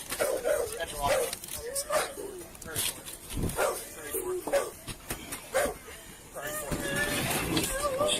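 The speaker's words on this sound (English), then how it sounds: "the barking dog makes it worse" A dog barks and whimpers in bursts, mixed with agitated voices talking over it, the yips and cries coming in uneven spurts.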